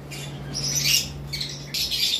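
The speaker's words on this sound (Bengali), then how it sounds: "আমাদের এখানে একজোড়া লুটিনো পিসপেস লাভবার্ড রয়েছে" A pair of lutino lovebirds gives sharp, harsh squawks close by, three or four bursts in quick succession over a low steady electrical hum.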